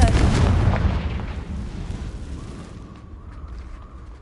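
The Confringo fire spell in Hogwarts Legacy lands as a heavy explosive boom that starts loud and rolls off into a fading rumble over a few seconds, with no speech.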